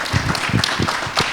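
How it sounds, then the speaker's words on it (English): Conference audience applauding, a dense patter of many hands clapping close and continuous through the moment. "Let's give them a round of applause, everyone, please"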